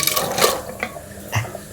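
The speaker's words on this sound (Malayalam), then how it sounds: "നമ്മളെ ബീഫ് കറി ഇതാ കുക്കറിനെയാണിതാ ഒരു മൺചട്ടിയിലേക്ക് ഒഴിക്കുകയാണ്." Beef curry is poured from a pressure cooker into a clay pot, giving a brief, close, wet glugging slosh of thick liquid that ends in a louder splash.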